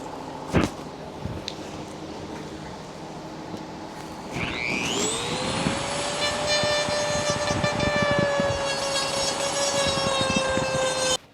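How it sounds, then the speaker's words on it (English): A Dremel rotary tool spins up with a rising whine and settles into a steady high-pitched drone, grinding noise riding on it as it trims carbon fiber laminated over wood BMW 135i interior trim, close and loud. "be really careful with the Dremel"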